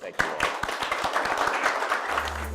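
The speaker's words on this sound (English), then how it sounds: "a big round of applause to Ken and the panel" Hands clap for a panel at the close of a policy forum on artificial intelligence, a brisk rattle of individual claps near the microphone that thins toward the end as a low hum takes over.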